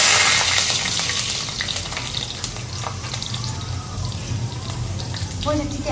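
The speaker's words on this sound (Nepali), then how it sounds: "आलु र भिन्डीसँग हालेर भुट्छु होला" Potatoes and okra fry in ghee in a pan, giving a loud, constant sizzle with occasional stirring scrapes close by.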